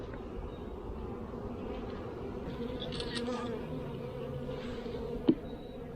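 Honey bees buzz steadily around an open nuc hive during an inspection, a dense close drone with occasional louder passes near the ear and a brief sharp knock near the end.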